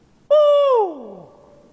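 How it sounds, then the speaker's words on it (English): A single loud, close hoot in Alabama woods at turkey season starts abruptly and slides downward in pitch, then fades out over about a second. "Well, I got the owls hooting"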